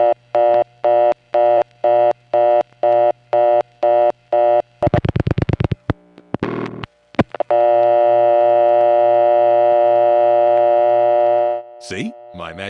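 Coin return tones on a New York telephone test line, triggered by a dialed digit: a run of regular short tone pulses, then a brief rattling burst and a few clicks, followed by a long steady tone that cuts off near the end.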